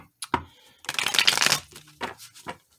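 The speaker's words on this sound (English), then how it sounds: "Let's get one more shuffle." Close riffling of tarot cards being shuffled, a dense flurry of flicks followed by a few lighter taps and slides.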